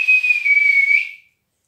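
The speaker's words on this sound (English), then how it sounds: "Coach Ferguson let out a blast on his whistle" A single sharp, sustained whistle blast from a coach, shrill and steady for about a second before cutting off into silence.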